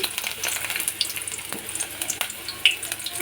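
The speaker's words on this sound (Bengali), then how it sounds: "এখানে আমি চুলায় তেল বসিয়েছি এখন আমি আমার পেঁয়াজ কুচিটা চুলায় দিয়ে দিলাম" Chopped onion hitting hot oil in a pan on the stove, a steady bright hissing sizzle with crackles throughout, close and moderately loud, while cooking fish curry.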